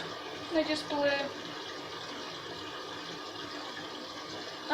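Candy washing machine drawing in water for a rinse cycle, a steady low rushing fill noise with a brief knock near the start, while someone talks softly.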